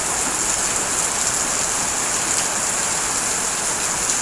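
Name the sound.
heavy rain pouring, gutter overflowing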